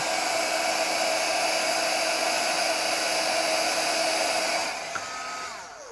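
A hair dryer or heat gun heats a foam pool noodle with a loud, steady blowing whir that runs unbroken, then drops in pitch and winds down near the end as it is switched off.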